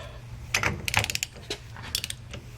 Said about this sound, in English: Set the ratchet.